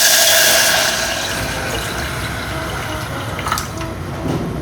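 Tap water runs steadily into a cooking pan for longanisa, a continuous rushing pour that starts louder and settles into an even splashing stream, heard alone without talk.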